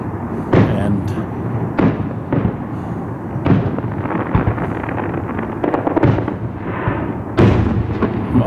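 Stadium fireworks burst in a series of sharp booms and crackles, several blasts spaced irregularly, echoing from a distance, with crowd voices murmuring underneath.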